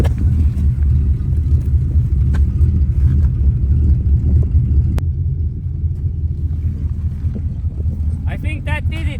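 An old military truck idles with a steady, loud low rumble while it pumps air into a tire, the engine droning on unchanged. Faint voices sit under the noise.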